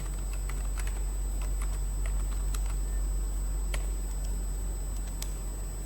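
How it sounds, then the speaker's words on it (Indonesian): Keys tapped on a computer keyboard while a database command is typed, a scattered run of light clicks over a steady low hum and background hiss, close and fairly quiet, with no talking. "untuk menggunakan database-nya, kita ketikkan perintah use"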